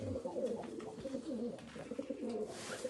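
Soft, low pigeon coos ripple continuously and overlap, several birds murmuring in a coop against a faint background hum.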